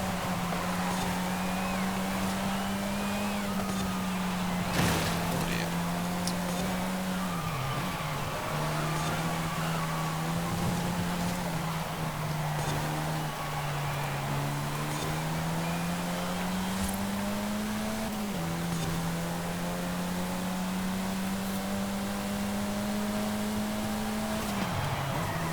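Race car engines in Forza Horizon 5, led by a Saleen S1 and a nearby V12, hold a loud, sustained tone, pitch dipping briefly at shifts and climbing again, with a rival engine mixed underneath.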